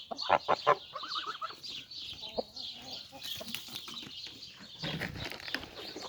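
Chickens of mixed breeds, Brahma-coloured among them, cluck and squawk close by in a farmyard, with a few loud bursts at the start and softer clucking and rustling after, with no talk.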